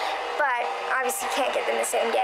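A household vacuum cleaner drones steadily in the background, a constant mid-level whine running beneath a woman's close speech.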